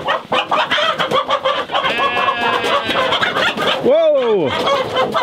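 Chickens cluck and squawk loudly in a crowded homestead coop during culling, a dense agitated chorus with a sharp rising and falling cry near the end, while people speak briefly over it.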